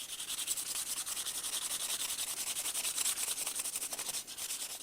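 Sandpaper rubs across a wooden chisel holder in quick, even back-and-forth strokes, a close, continuous rasping hiss.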